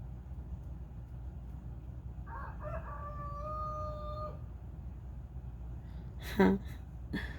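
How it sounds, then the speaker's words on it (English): A rooster crows once in a long drawn-out call, moderately distant, over steady background hum, followed by a brief sharp knock. "Sorry about my rooster crowing in the background."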